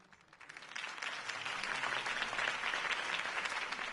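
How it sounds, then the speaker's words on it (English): Crowd applause and cheering swell from a quiet start into sustained, dense clapping after a mayoral campaign speech in the Batman Telltale video game, staying loud and steady throughout. "could have heard that applause"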